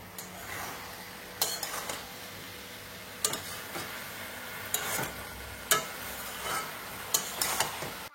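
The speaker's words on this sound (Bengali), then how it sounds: "আর একবার নাড়াচাড়া দিয়ে দিই" Jackfruit curry is stirred in a pot over a low simmering sizzle, with a utensil clinking against the pot every second or two in distinct, close knocks.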